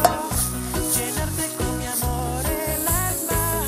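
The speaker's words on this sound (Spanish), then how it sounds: "Vamos a rehogar bien la cebolla" Chopped onion sautés in a pan while being stirred, giving a steady close sizzle with scraping strokes over a bed of background music, no talking.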